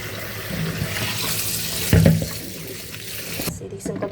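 Water from a kitchen sink tap runs and splashes as chopped pumpkin greens are washed by hand, with a brief louder splash near the middle before the flow cuts off.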